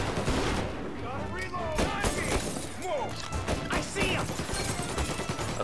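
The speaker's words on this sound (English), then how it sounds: "Okay, stop fucking shooting me." Rapid gunfire bursts and crashing impacts from the Mafia Definitive Edition video game keep up densely throughout, loud and close in a busy battle mix.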